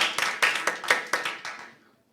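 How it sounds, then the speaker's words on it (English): A primary school spelling-competition audience gives a short round of applause: about eight crisp claps in a loose rhythm that thin out and fade to silence within two seconds. "Give me a round of applause."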